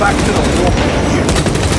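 Heavy gunfire in Warhammer 40K: Space Marine 2, a dense, loud, continuous roar of rapid automatic fire and booms filling the whole moment, with voices mixed into the din.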